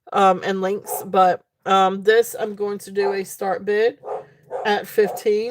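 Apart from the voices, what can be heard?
dogs barking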